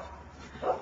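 A small puppy gives a single short, close yip near the end of a brief, otherwise quiet moment.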